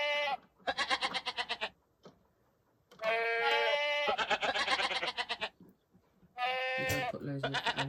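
Goats bleat loudly and close up at a petting farm, several long wavering calls in bursts separated by pauses, with voices mixed in among them.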